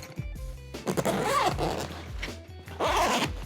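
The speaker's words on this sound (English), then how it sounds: "U-shaped zipper" A large U-shaped zipper on a recycled ballistic nylon duffel bag is pulled open in several quick, close, raspy strokes with short pauses between them, no voices present.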